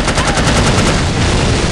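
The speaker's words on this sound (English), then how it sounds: "Shooting at its rear one seems to do it." Dense, continuous automatic gunfire from a video game firefight against a helicopter in The Operative: No One Lives Forever, a loud unbroken burst of rapid shots filling the whole stretch.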